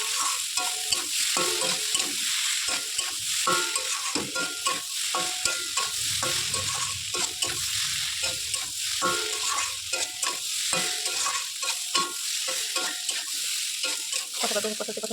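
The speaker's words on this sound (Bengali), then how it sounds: "এবার সয়াবিনগুলো দিয়ে দেবো, সয়াবিনগুলো দিয়ে আবার আরেকটুখানি কষিয়ে নেবো" Soybean chunks and potatoes stirred and fried in a pan, with a steady close sizzle broken by repeated scraping strokes of the spoon throughout.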